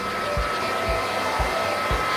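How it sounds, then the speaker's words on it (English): Salon blow dryer running steadily to dry pet birds, a continuous whooshing hum with a few soft low thumps, no talking. "She absolutely loves the blow dryer."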